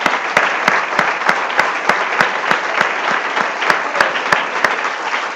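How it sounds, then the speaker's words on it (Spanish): A church congregation applauds together, a loud, steady wash of clapping with sharp, evenly spaced accents, with no talking over it. "Démosle un aplauso al Señor."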